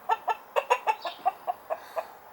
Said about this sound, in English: That's a beautiful rooster right there.